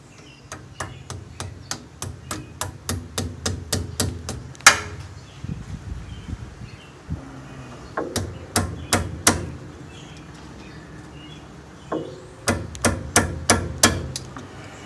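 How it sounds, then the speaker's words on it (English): Metallic taps of a small screwdriver on a rear brake caliper spring, struck in quick regular runs of ringing clicks with short pauses between groups, close and fairly loud. "So I just have a very small screwdriver here. I'm tapping this."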